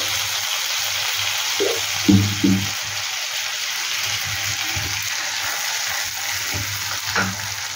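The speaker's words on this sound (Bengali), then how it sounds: "তেলটা তো গরমই ছিল, যার জন্য দিতে দিতে ফুটতে শুরু করেছে এটা" A runny paste of ginger, chilli powder and turmeric hits hot oil and bubbles into a loud, steady sizzle, with a few stirring knocks and scrapes near the start and again near the end.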